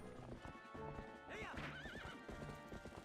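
Hooves clip-clop steadily while a horse whinnies with a rising, wavering neigh in the middle, from a Zelda video game where Link rides the animal; the sounds are loud and close, with no talking.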